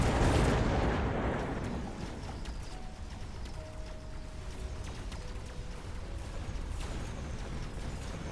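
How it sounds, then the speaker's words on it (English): A smoke bomb comes down in the Mechabellum strategy game, a loud rumbling blast at the start that fades into a steady crackling, gritty battlefield roar with scattered impacts. "Smoke bomb on the right actually coming down."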